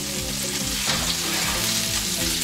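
Italian meatballs brown in a hot pan with a loud, dense, continuous sizzle and crackle, close and unbroken, over faint background tones and no speech.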